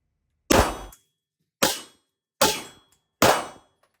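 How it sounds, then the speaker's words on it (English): Smith & Wesson Equalizer handgun fired four times in a slow, evenly spaced sequence, each shot a sharp close crack with a brief decay. "shooting a Smith & Wesson equalizer today"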